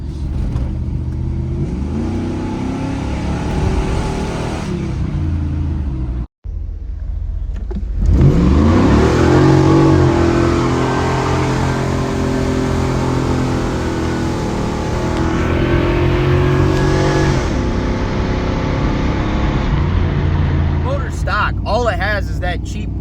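A cheap salvage-history V8 Camaro with only an aftermarket cold air intake pulls hard after a brief drop-out, its loud engine note climbing steadily in pitch as it revs up and holds a strong roar through the gears.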